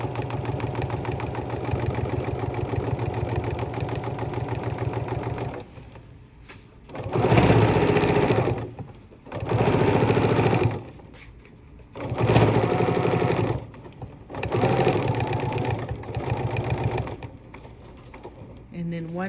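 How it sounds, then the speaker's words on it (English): A sewing machine stitches a paper-pieced gingerbread house quilt block, with a quiet hum at first and then four loud bursts of rapid stitching, each separated by short pauses. "Gonna take one more baby stitch in there."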